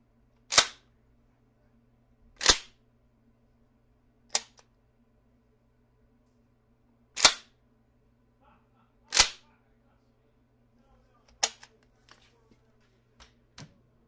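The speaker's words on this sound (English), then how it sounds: ".12 gauge pump shotgun." Five sharp 12 gauge pump shotgun blasts ring out one by one at roughly two-second intervals, followed by a few fainter clicks and clacks of the action.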